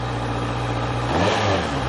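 A nearby Honda CBR650R motorcycle engine revs up and holds a rising, throaty drone for a couple of seconds.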